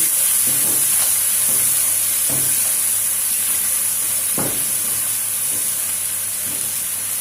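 Onions frying in oil in a pan give a steady, loud sizzling hiss with faint crackles and occasional soft clicks or stirring taps, heard alone without speech.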